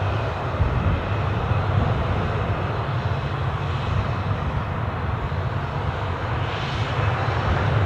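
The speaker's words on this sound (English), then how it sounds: "You was watching a Jet2 737 bound for Tenerife" A Jet2 Boeing 737 bound for Tenerife roars past at Newcastle Airport, its engines giving a loud, continuous broadband rumble that holds steady throughout with no voices.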